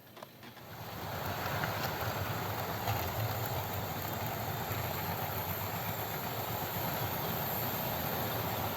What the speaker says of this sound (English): This is my cleaner train running with all the other trains.